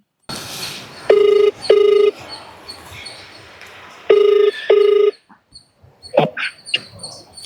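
A phone ringtone sounds for an outgoing call, four loud steady ring bursts in two pairs, followed by a brief voice and a couple of short clicks.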